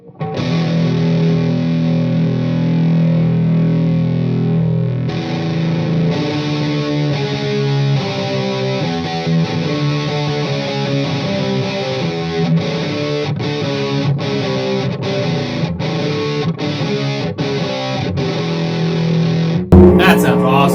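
A 2014 G&L Fallout electric guitar through a Boss Metal Zone distortion pedal, playing loud sustained chords and then choppy rhythmic stabs, with a brief louder burst at the very end.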